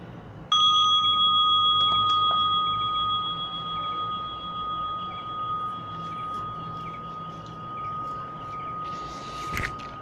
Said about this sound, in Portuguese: Inicia com o toque de um sino e termina com 3 sinos.